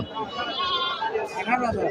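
A castrated male goat bleats in a wavering cry, close by, while people chatter in the background at a goat market.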